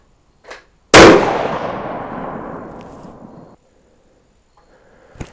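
A single 6.5 Creedmoor rifle shot fired at a target, one sudden loud crack followed by a long rolling echo that fades over a couple of seconds, with faint handling noises before and after.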